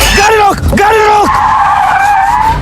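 A car's tires squeal loudly as it skids to a stop, two short screeching bursts followed by a longer sustained squeal that trails off, close and prominent.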